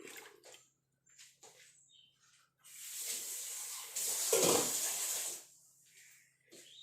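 Buttermilk is poured in a quiet, splashing stream lasting a few seconds, between softer clinks and short pauses.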